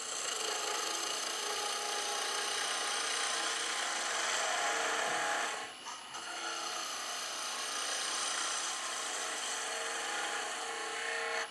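A skew chisel cuts a wooden cheese board spinning on a lathe, a steady close rasping hiss with a brief dip midway as the tool lifts off and returns.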